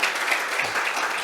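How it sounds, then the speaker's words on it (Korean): An audience at a Korean green building awards ceremony applauds, a continuous, even wash of many hands clapping, moderately distant with no talking over it. "미래의 차관님 부회장님 위해서 박수 한번 부탁드립니다."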